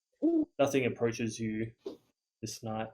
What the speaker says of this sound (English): You're able to hear some of the owls in the background.